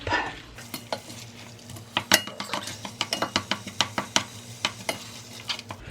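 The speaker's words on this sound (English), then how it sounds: "I try to separate the ground beef" Ground beef broken up with a utensil in a sizzling pan, cooked in a hotel room alongside onions and peppers: steady rhythmic scraping and clicking strikes over a soft frying hiss, close and fairly quiet.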